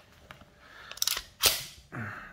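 CZ TS2 pistol trigger dry-fired: a soft take-up followed by a sharp single mechanical click and a quieter reset click, close up with faint handling noise.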